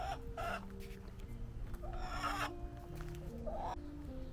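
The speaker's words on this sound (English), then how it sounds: "The chickens were getting too loud." Chickens cluck and squawk in short bursts nearby, a busy farmyard chatter of several birds at fairly low level.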